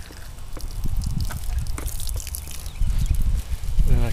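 Water from a solar-powered pump hose pours into a container fed from a rain barrel, a close, steady splashing trickle with small drips, filling continuously over several seconds.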